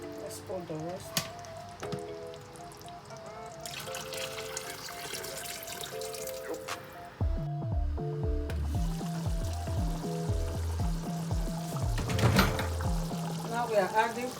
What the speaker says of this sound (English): So guys, we are adding the mixed water.